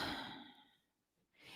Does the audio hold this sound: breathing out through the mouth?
yes